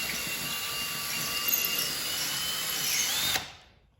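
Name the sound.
power drill drilling through drywall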